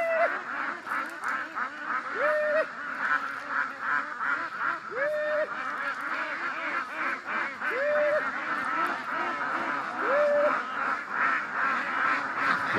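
Farm ducks, wary and hesitant, are coaxed with corn. Loud honking quacks repeat about every two seconds over a constant busy background of other ducks.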